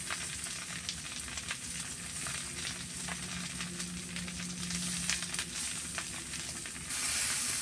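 Vegetable panta pulao, made with soaked leftover rice, stirred and mixed in a hot pan during Indian village cooking. A steady sizzle runs throughout, with soft scraping and turning sounds from the stirring, close and continuous with no talk.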